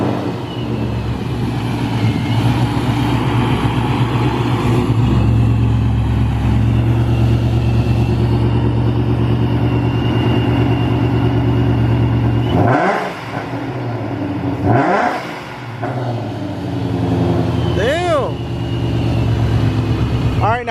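A supercharged Ford Mustang engine holds a loud, steady rev near 3,500 rpm with a throaty drone, then drops and surges again in short blips as people talk nearby.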